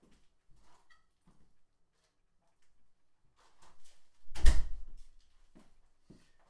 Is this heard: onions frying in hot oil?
no